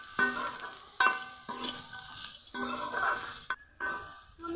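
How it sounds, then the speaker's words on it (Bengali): Pointed gourd peels and green chilies fry in a pan with a soft sizzle, broken by several rhythmic stirring scrapes about once a second, quiet and close. "এখন আমি আরও কিছুক্ষণ ভেজে নিব।"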